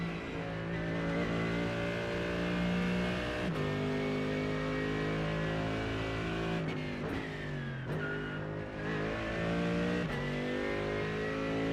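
An AMG race car in iRacing revs its engine hard, a loud continuous harmonic whine that climbs through the gears, drops briefly at each shift, then rises again, with no voices.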